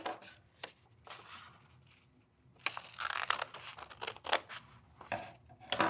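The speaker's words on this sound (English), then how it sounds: "To save time, I'm just gonna cut with scissors." Scissors cutting through folded paper at close range, a few quiet snips and crisp slicing crunches that grow denser toward the end, with light paper rustling and no talking.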